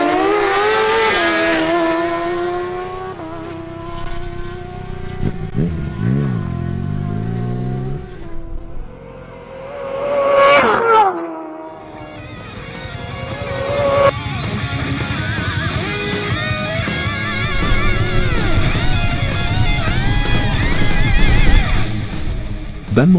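Fast sport motorcycles such as a Honda CBR1000RR and Suzuki GSX-R1000 roar through quarter-mile drag races in Barranquilla, engines screaming high and rising through gear changes, then passing and fading amid loud crowd and track noise.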